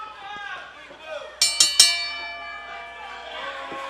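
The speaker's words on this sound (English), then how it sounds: "Bell sounds, we are set to go" A ring bell at a professional wrestling event in Davis Arena is struck three times in quick succession, loud and ringing, with commentary and crowd noise continuing underneath.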